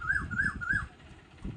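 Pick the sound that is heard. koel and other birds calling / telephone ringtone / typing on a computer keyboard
koel and other birds calling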